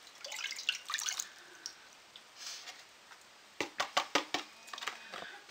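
Water poured from a 1/3 measuring cup, soft trickles and splashes followed by a run of sharp drips and clinks, quiet and close.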